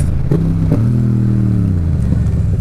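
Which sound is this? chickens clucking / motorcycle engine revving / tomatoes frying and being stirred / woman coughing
motorcycle engine revving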